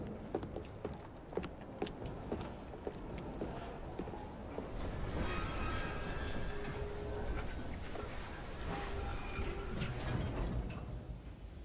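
A steam train runs in Assassin's Creed Syndicate, a continuous rumbling rattle with rhythmic clicks and clatter, moderately loud and steady throughout, with no voices.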